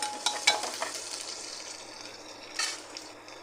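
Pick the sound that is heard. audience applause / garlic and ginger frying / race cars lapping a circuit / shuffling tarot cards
garlic and ginger frying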